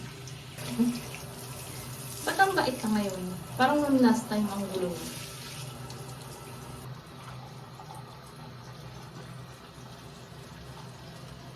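Warm tap water runs steadily and softly while a cat is bathed, with a quiet hiss. Voices talk over the flow at the start, and the water continues alone afterward.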